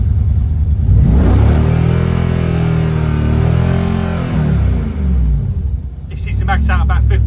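A Mercedes-AMG M113 V8 in a W202 revs up close and loud, climbing and falling in a sustained rumbling roar, with a person talking over it and a short burst of higher sounds near the end.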